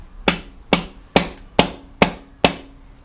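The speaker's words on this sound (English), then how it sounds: "Bring my favorite guy, The hammer." Six evenly spaced, sharp metallic hammer strikes drive a part into a car engine, each blow crisp and close with a short ringing decay, no talking between them.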